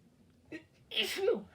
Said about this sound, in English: here comes the sneeze